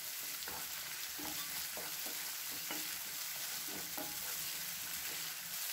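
Chopped tomato sautéing in a pan for a brinjal and potato side dish, with a steady low sizzle and repeated scraping strokes of a spoon stirring throughout, close and alone.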